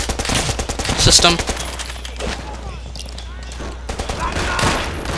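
Rapid automatic gunfire in Call of Duty: World at War, a dense burst of shots up front that thins into scattered fire, with someone talking over it.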